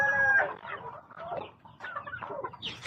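A young rooster, a stag, clucks in short bursts at a backyard poultry farm, with other chickens heard nearby across the whole stretch.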